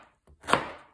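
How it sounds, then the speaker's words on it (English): A chef knife slices a fresh artichoke thinly, making one crisp, close cut with a short crunch of fibrous leaves, heard alone. "Now I'm going to use a chef knife again to cut this into very thin"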